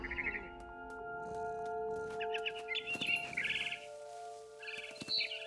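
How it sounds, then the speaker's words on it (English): Barn swallow chirping in the game What Remains of Edith Finch: several short high twittering calls come in bursts over a steady tonal backdrop, fairly close and clear, with no talk. "It was a barn swallow going back to her nest."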